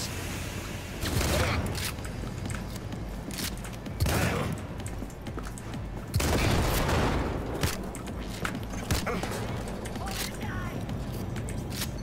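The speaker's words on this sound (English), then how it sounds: "Shotgun time!" Shotgun blasts in the video game Cyberpunk 2077, several loud, heavy booms at uneven intervals with crackling debris and game noise between them, a voice talking over parts of it.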